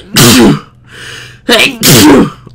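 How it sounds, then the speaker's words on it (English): A person gives a loud, close sneeze in two forceful bursts, with a breathy lead-in between them, during a horror game session in Spooky's Jumpscare Mansion. "Oh god, I gotta sneeze."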